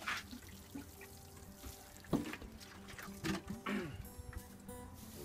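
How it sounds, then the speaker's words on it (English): Water poured onto the soil around a newly planted goji berry bush in a raised garden bed, splashing and gurgling in uneven bursts with a few sharper splashes, close and moderately loud. "Water it in deeply,"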